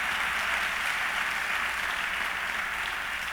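Steady, even clapping from a church congregation during a worship service, a broad wash of applause sustained throughout without speech.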